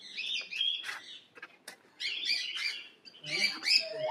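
Birds at a zoo call out in bursts of sharp chirps and squawks, several separate calls spaced across a few seconds, moderately close with quiet gaps between.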